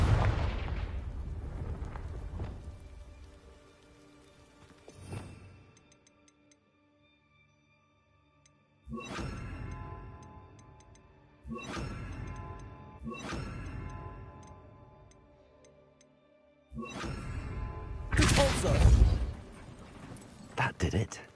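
A Confringo blasting spell in Hogwarts Legacy detonates with a loud rumbling boom and crackling debris, followed by further bursts of blast noise and lingering rubble, heard between stretches of near silence.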